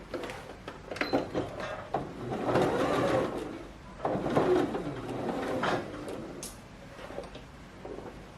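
A sewing machine stitches around the edge of a halter neck top, its motor hum rising and falling in uneven runs with short pauses, moderately close, with faint handling noise in between.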